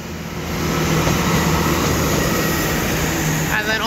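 Class 444 electric train 444018 rumbles steadily through the station at close range, a broad continuous rolling roar over faint hum, with a person talking.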